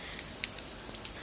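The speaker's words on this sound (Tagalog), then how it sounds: "umuulan pa rin." Steady rain falling on a rainy morning walk, a dense continuous patter with scattered brighter drop ticks, close and even throughout.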